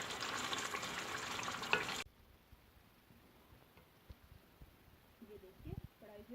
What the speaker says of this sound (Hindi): अच्छी तरह से इसको भून लेंगे।